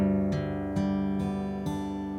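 Acoustic guitar in open G tuning rings out with four strummed chords spaced about half a second apart, each one sustaining with rich harmonics and no talking over it.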